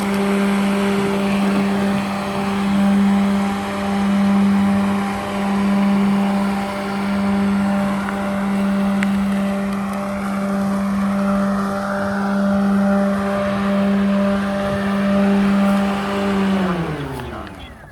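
Lymow One Plus robotic lawn mower running over a rock-filled zone, a loud steady motor hum with rhythmic swells, winding down in pitch near the end.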